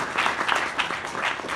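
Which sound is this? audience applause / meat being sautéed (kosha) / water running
audience applause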